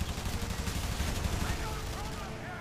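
Dense, continuous machine-gun fire from bomber rear gunners in IL-2 Sturmovik: Birds of Prey, a steady roaring rattle of overlapping bursts that stays loud across the whole stretch.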